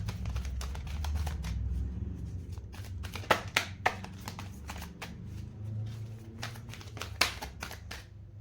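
Tarot cards are shuffled by hand in a run of crisp riffling bursts and sharp taps, close and fairly quiet, over a low background hum.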